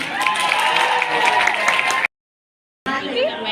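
Audience applause and cheering welcome a young singer onto the stage at an awards ceremony for popular rising stars, a loud dense crowd sound broken by a short silent gap before resuming.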